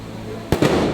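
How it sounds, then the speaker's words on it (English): Fireworks going off at sea near a Disney Dream cruise ship, heard from a veranda as one loud nearby burst followed by a second crackling pop over steady background hum. "There are fireworks going off right now."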